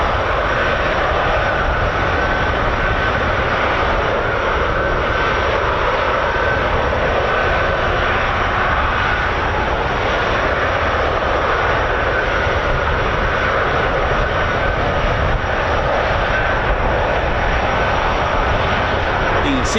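A C-17 military transport aircraft flies past with a loud, steady engine roar that lasts throughout, and voices talk faintly beneath it.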